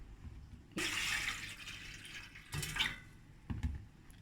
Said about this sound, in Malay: Kita basuh beras ni dalam 3 kali.